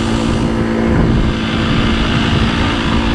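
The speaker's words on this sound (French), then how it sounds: "Quand on part d'une vitesse complètement nulle, on a zéro inertie, le moteur a vraiment du mal." A small 50cc motorcycle with a variator and a new carburetor strains to pull away from a standstill, giving a loud, unbroken, close-up engine drone that holds steady with no talking.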